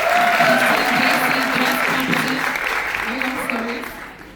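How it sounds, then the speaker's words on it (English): Audience applause at a debate event, dense clapping that starts strong and slowly fades toward the end, with some talking mixed in underneath. "Give Andrea a round of applause."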